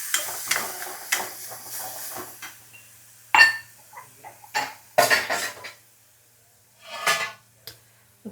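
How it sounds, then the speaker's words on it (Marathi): Metal cookware clanks while a lid is set over a pan of vegetable curry for patvadi rassa: close, irregular clatters and knocks with short sizzling hisses between them and quiet gaps. "आता भाजीवरती थोडंसं झाकून ठेवते"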